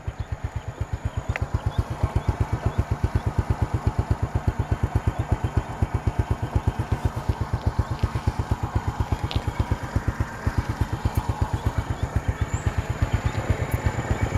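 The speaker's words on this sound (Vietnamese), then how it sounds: "Máy nổ gần về thì thầm luôn." A 2003 Honda Wave Alpha underbone motorcycle with its original engine idles close by, a steady, even thudding pulse that stays level and unbroken throughout, heard alone with no voices.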